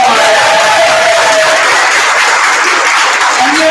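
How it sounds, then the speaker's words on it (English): Loud, steady applause from a school audience for students at a time capsule opening, a dense wash of clapping that holds for several seconds with a little cheering and faint voices mixed in. "I would like to give all of our students a big round of applause."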